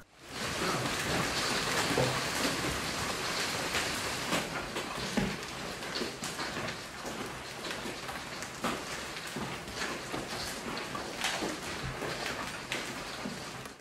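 Large hailstones pelt a pond in Texas during a storm, a dense, continuous hiss of splashing impacts with scattered sharper hits, loud and steady throughout with no voices.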